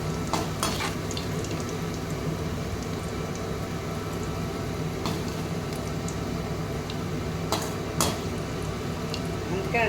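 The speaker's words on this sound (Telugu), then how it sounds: "మళ్ళీ ఎందాకలాగే కాకరకాయలన్నీ ఇట్లా వేయించుకున్నాను." Bitter gourd pieces fry in oil with a steady, even sizzle, broken by occasional stirring clicks from a utensil against the pan while someone talks.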